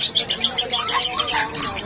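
Busy chirping from several small pet birds, lovebirds and cockatiels, close by, quick overlapping tweets in a continuous chatter with no voices.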